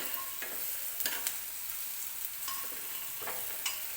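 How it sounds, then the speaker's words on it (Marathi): Turmeric fried in hot oil for a cabbage curry, with a continuous soft sizzle and several distinct scraping strokes of a spoon stirring the pan. "हळदसुद्धा व्यवस्थित तेलात परतून घ्यायची आपल्याला"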